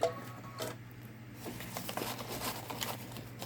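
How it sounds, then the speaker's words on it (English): A Babylock Solaris embroidery machine sews a satin stitch into metallic vinyl, giving a steady close mechanical whir with fast, even ticking from the needle and no voices. "let it finish off with the satin stitch"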